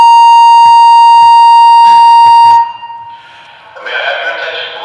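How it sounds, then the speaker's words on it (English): Building fire alarm blares a loud, steady electronic tone with short beeps. It stops abruptly after about two and a half seconds and gives way to quieter room noise and an indistinct voice. "The cause of the alarm has been determined."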